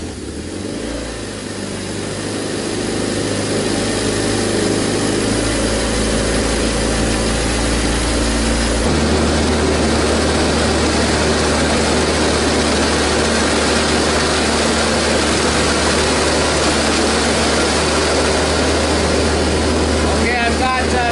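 A car engine runs steadily after a restart during bleeding of the cooling system, an even mid-range drone that steps up in pitch partway through and continues at a high level with faint background noise.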